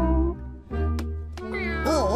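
A cartoon cat meowing: a voiced, pitched meow with a rising and falling contour that ends in a wavering, drawn-out cry, close and clear, with a short pause partway through.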